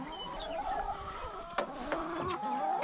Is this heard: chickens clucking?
yes